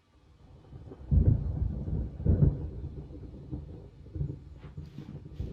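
Thunder from a storm in the video game Alan Wake rolls in two heavy low rumbles, then lingers as a softer, uneven grumble with faint rain-like hiss.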